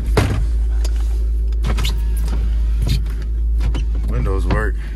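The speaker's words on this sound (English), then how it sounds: "Windows work." Car power windows on a cheap used auction car motor up and down in a few short whirring runs, close by, with background chatter and clunks around them.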